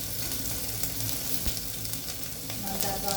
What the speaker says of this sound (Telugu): అలా ఫ్రై అవుతూ ఉంటాయి, మనం అన్నీ వేసుకుంటూ ఉంటాం ఐటమ్స్